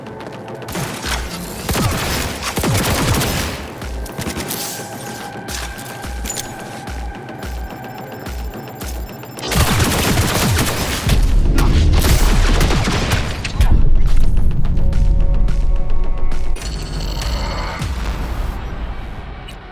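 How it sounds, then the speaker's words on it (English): Gunfire in the video game Cyberpunk 2077, a loud, dense barrage of rapid shots and booming blasts that comes in bursts and surges over about twenty seconds, with mechanical clatter between volleys. "Opening fire!"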